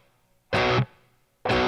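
Two short, loud bursts of distorted electric guitar through a Boss Katana MK2 amp on a tone, each chord cut off abruptly with only a faint tail of subtle reverb in the silence between.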